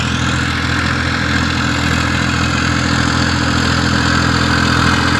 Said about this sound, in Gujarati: આવી ગયું ટ્રેક્ટર